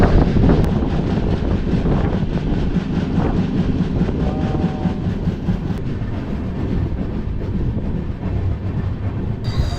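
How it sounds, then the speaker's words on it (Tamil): An intercity train from Chennai to Coimbatore rattles steadily along the rails, a loud continuous clatter and rumble with wind buffeting the microphone throughout. "என்ன சவுண்டுங்க ட்ரெயினுக்கு."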